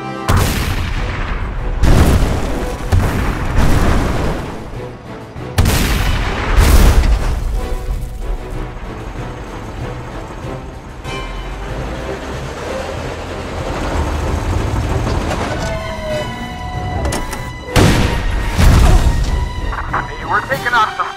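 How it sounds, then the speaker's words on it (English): Staged blasts from a magic-effects battle scene boom out in several heavy bursts near the start and again toward the end, with rumbling noise, shouted voices and music-like tones running between them. "Let's blow these suckers up."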